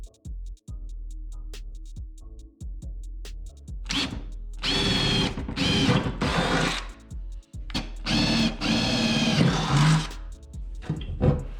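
A power tool drives bolts to fasten an anchor winch onto a jon boat being converted to a bass boat, with several loud whirring bursts of a few seconds each separated by short pauses and clicks.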